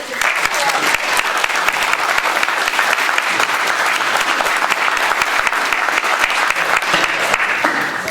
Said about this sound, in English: Can everybody give these guys a big round of applause?